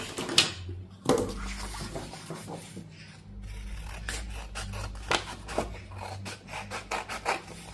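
Scissors snip through a piece of paper while a handmade sewn journal is being made, giving a series of quiet, close crisp cuts and rustles at an irregular rhythm with no talking.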